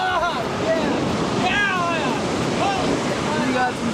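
Large surf pounds the California coast in a steady, roaring wash of breaking waves, with gusts of wind buffeting the microphone throughout.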